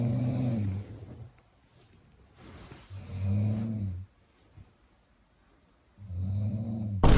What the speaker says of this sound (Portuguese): A minha esposa ronca. Mas não é um ronquinho normal, parece um trator.